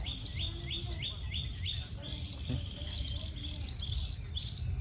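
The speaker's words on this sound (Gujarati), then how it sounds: "ચીસકોલા અને પક્ષી બોલે સંભળાય તમને" Birds chirp and tweet in quick repeated bursts over a steady, high insect trill from crickets, a continuous outdoor village chorus in Botad, with no talking.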